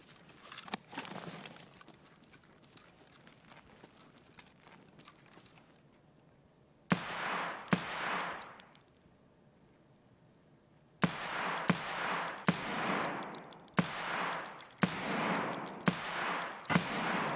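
Gunfire in Escape from Tarkov, a few quieter scattered shots at first, then two loud bursts of close, sharp rapid-fire shots separated by a brief lull, with no talking.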